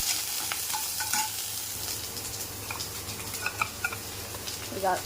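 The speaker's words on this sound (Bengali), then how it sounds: "লঙ্কা চিড়ে দিয়ে দিলাম। এবার এটাকে হালকা ভেজে নেব।" Slit green chillies with chopped onion fry lightly in a pan during a banana-flower recipe, a quiet, steady sizzle with scattered small pops and stirring clicks, close and fairly faint.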